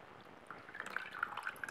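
Water drains from the bottom of an orchid pot after watering. Faint, quick drips and trickles patter irregularly over a quiet background.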